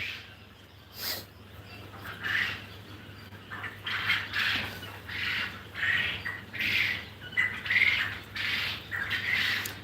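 Quail on a poultry farm and hatchery give a run of shrill, squeaky calls in quick bursts, about a dozen in ten seconds, over a faint steady hum and no talk.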